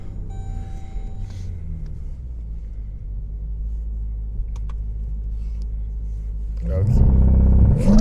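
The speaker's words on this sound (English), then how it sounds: "I'll do a launch right here, actually." A 2021 Dodge Durango SRT Hellcat idles with a low rumble, then its engine surges loudly into a hard launch-control acceleration near the end, with a brief spoken word inside the cabin beforehand.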